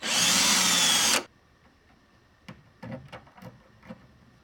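Power drill spinning loud and continuous for about a second while boring a hole through a Toyota Supra door panel during a speaker upgrade, then stopping, followed by quieter clicks and handling noises inside the car.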